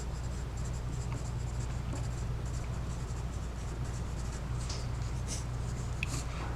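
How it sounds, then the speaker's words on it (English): Pen or marker writing out an algebra equation by hand, a soft steady scratching that runs continuously at low level over a constant background hum, with no voices. "we're going to write equation right here"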